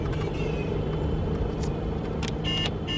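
Taxi car driving along with a steady engine and road rumble filling the whole stretch, plus brief higher rattles and hisses near the end; no voices.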